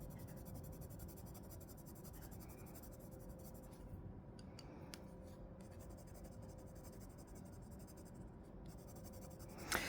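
A dark pencil drawing a strawberry on paper gives faint, steady scratching and shading strokes that run throughout, close to the microphone and with no speech.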